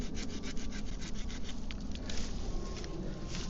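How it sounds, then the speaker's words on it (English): Steady rasping of a saw cutting through a hickory branch, continuous back-and-forth strokes close by with no talking. "I'm gonna cut this branch off so I could use it as a bowstring."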